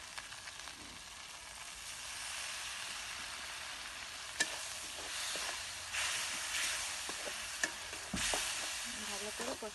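Spice paste for a pangasius fish curry sautéed in a pan, with steady sizzling and frying hiss, occasional stirring scrapes and clatter, close and moderately loud, no talking.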